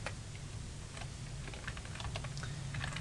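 Quiet, close typing on a computer keyboard: a steady run of light, irregular key clicks over a low background hum, with no voices.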